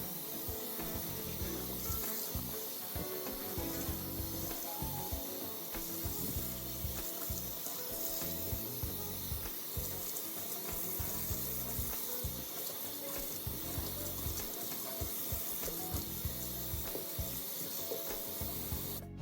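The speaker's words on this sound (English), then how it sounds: "continue to rinse it out with cold water" Cold tap water runs steadily while hair is rinsed at home, a continuous close splashing hiss with no pauses and no talking.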